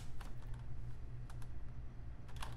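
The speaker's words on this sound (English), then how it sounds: "you should be able to type in Heroku login" Keystrokes on a computer keyboard as a login command is typed, a quick irregular patter of clicks, sparse then bunched near the end, quiet and close with no talk.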